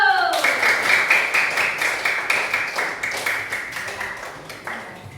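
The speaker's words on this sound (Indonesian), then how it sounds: "tepuk banyak-banyak dulu" A group claps in quick, rhythmic bursts that gradually fade over several seconds, close by in an indoor room.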